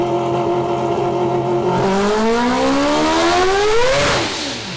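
A four-rotor rotary engine revs hard on a dyno run, its loud, buzzing note climbing steadily in pitch over several seconds before dropping off near the end, with no talk.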